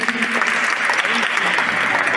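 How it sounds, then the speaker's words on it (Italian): Audience at the Royal Palace of Naples applauding a student theatre company of 11- and 12-year-olds, lively close clapping with a voice or two calling out beneath, ending abruptly. "Applausi a scena aperta presso il Palazzo Reale di Napoli"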